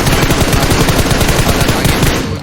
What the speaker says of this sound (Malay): Memang betul-betul point tembakan dari arah belakang.